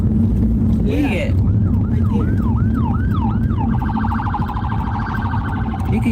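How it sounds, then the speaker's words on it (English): An ambulance siren passes slowly on a street, first a rising and falling wail, then switching to a fast warbling yelp, loud and steady over traffic rumble with no pause. "You don't see the ambulance behind me?"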